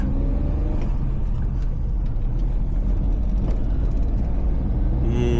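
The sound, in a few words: vehicle with Kerala registration passing on road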